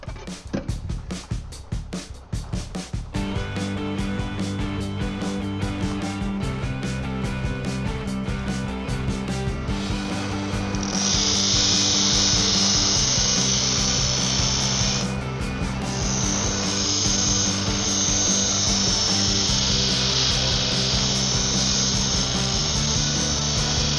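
Belt sander grinding a lawn mower blade, a steady loud whine with a brief break partway through, preceded by a few seconds of lighter rattling before the tool runs continuously.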